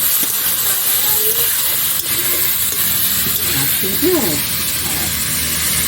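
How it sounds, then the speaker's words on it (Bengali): Potato and banana stem pieces fry with turmeric in a pan, giving a loud, continuous hiss of sizzling oil with faint tonal sounds and background noise mixed in. "হলুদ দিয়ে আমি ভালো করে আলু আর থোরটাকে হালকা একটু লাল করে ভেজে নেব"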